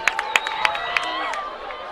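Hanover football fans in the stands dancing and singing along to a song, with music carrying over crowd noise and a few sharp claps or thumps punctuating the first second.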